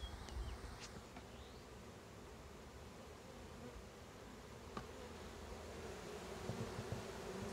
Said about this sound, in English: See, there's a big pile of bees in the bottom